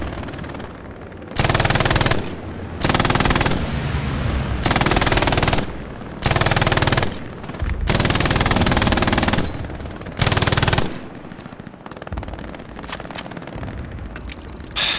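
Bursts of MG-42 machine gun fire in the World War II shooter Hell Let Loose, Stalingrad map, rattle out in six loud, sustained volleys separated by short pauses, with quieter distant gunfire between them.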